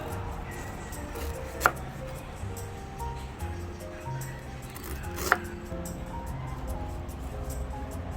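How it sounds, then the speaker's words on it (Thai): A knife taps rhythmically on a cutting board, slicing peeled food into thin pieces for Hainanese chicken rice, with two sharper knocks standing out against a steady background hum. "พอเสร็จแล้วเราก็จะหั่นเป็นแผ่นบางๆแบบนี้ค่ะ"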